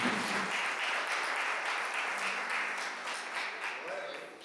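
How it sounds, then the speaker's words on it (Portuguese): A church congregation applauds during a Sunday evening service, sustained clapping that fades gradually over a few seconds. "Só quando as pessoas aplaudem o Senhor Jesus."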